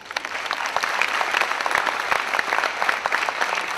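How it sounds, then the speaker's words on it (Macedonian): An audience at the TRA-LA-LA international children's festival in Bitola claps in a dense, sustained round of applause, loud and close, with no voices standing out. "голем аплауз."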